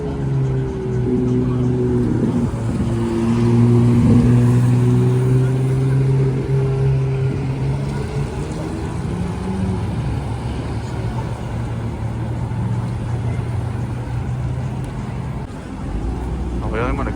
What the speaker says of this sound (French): regardez-moi la configuration sur cette GT3 Touring qui va passer juste devant nous